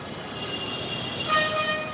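Steady busy traffic rumble near Karwan Bazar metro station in Dhaka, with a vehicle horn honking partway through, a sustained toot standing out over the engine noise.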